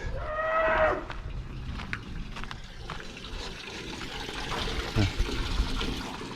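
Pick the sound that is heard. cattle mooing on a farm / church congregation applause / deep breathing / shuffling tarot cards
cattle mooing on a farm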